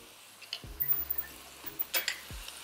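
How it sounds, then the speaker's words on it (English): Tofu being stir-fried with garlic, ginger, onion, black pepper and salt in a pan, heard as faint scattered scrapes and clinks of a utensil against the pan over a quiet low sizzle, with no talking. "Now go ahead and stir fry"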